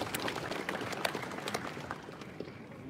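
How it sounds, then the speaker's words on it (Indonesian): Quiet, scattered applause from an audience at a public inauguration event for Kampung Akuarium residents, a patter of many claps at moderate distance that thins toward the end. "Kita beri tepuk tangan untuk teman-teman di Kampung Akuarium di sini"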